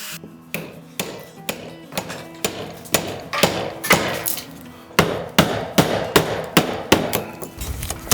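Hammer blows ring out on a timber purlin being fixed to a house addition framed by hand, about a dozen sharp, fairly close strikes in irregular bursts with short pauses between.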